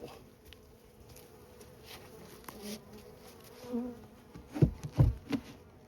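Honey bees buzz around an open hive during a spring sugar-syrup feeding and mite treatment, a soft continuous drone with a few louder close passes near the end as one bee investigates up close.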